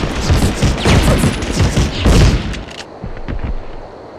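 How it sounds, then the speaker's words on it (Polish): Explosions and gunfire in the PlayStation 1 game Medal of Honor: Underground: a loud, dense barrage of overlapping blasts and shots for a few seconds, easing off into scattered bangs. "wszystko w wybuchu stoi"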